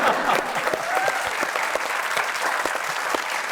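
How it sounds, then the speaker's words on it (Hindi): Audience applause for Atif Aslam on a comedy talk show, a steady wash of many hands clapping at moderate level, continuous throughout with no talk over it. "आतिफ असलम के लिए एक बार तालियां।"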